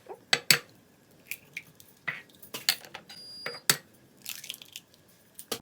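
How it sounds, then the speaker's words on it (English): Two eggs cracked against a clear bowl, giving several sharp clicking taps and light wet drips with small kitchen clinks between them, close up with no talking. "I'm going to crack them in this bowl first so that if there's any shells, I'll be able to see it before I add it to the bowl."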